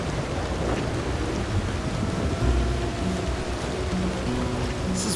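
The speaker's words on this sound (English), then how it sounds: "This is one hell of an ugly storm." A thunderstorm with rain rolls on in Red Dead Redemption 2, a steady wash of rain and wind noise with faint low rumbles and soft tonal hums underneath, no voices over it.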